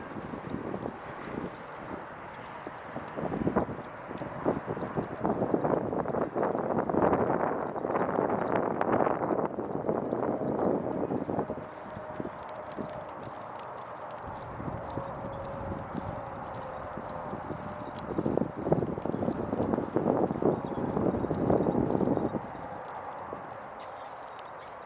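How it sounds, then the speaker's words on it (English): Horse hooves clip-clop steadily as the horse lopes around an arena, a close and rhythmic drumming of footfalls that fades in and out in bursts, with light wind noise on the microphone. "I'm able to just go with my horse, lope around, move out, come back."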